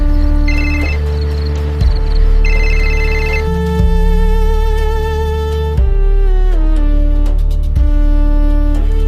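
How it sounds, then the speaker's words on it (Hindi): A phone rings loudly in a repeating electronic tone pattern, steady cycles of bright chiming notes with no talking. "चलो, अब मैं भी प्रिया को एक बार फोन लगाता हूं।"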